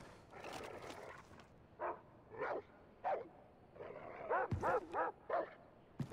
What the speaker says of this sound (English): Still hear the dogs